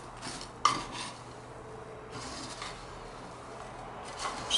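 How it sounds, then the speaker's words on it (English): Stirring a jar of Yule incense mixture with a utensil, scraping the bottom of the glass jar, giving a few soft clinks and rubbing, scraping strokes at close range with no voices. "So I'm just gonna give this a stir."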